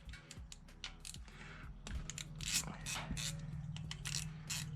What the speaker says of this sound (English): So I need to go grab my 8mm socket and ratchet. All right, so I'm just gonna loosen these one at a time.